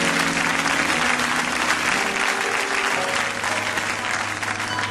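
Church congregation applauding and acclaiming the Lord, dense sustained clapping from a large crowd with cheering voices mixed in, steady and loud throughout.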